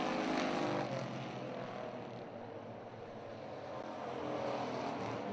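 Race cars on a hot lap session at the hard clay Orange County Fair Speedway, a continuous loud engine roar that swells and dips slightly as the cars circle, with no talk.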